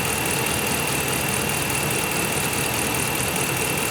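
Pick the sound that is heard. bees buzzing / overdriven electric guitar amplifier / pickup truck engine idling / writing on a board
pickup truck engine idling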